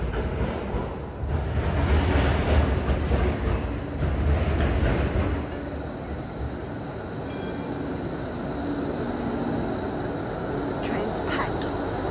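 A packed train running on rails, heard from inside the carriage: loud steady rumble and rattling wheels with a high whine, voices murmuring underneath.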